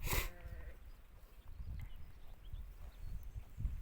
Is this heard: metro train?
no